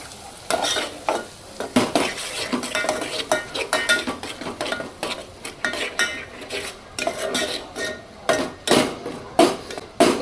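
A spoon or ladle stirs ground black masala paste into a Maharashtrian fish curry in a metal pot, with repeated sharp scraping and clinking strokes in an uneven rhythm over a soft sizzle, close and fairly loud.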